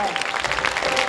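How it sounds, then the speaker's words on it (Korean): Audience applause fills a hall during a short film festival closing ceremony: a brief, dense burst of clapping at steady volume, near and continuous, with no voices over it. "여러분 큰 박수 한번 부탁드리겠습니다."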